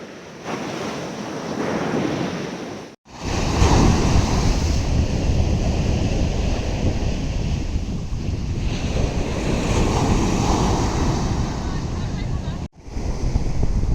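Sea waves at a Pondicherry beach roar and wash in continuously, loud and close, mixed with heavy wind buffeting the microphone and brief dropouts.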